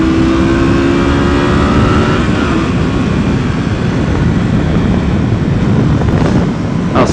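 A first-generation Honda VTR250 Interceptor motorcycle is ridden and accelerates, its engine a loud steady drone heavily mixed with wind roar, the pitch climbing slightly early on before holding steady.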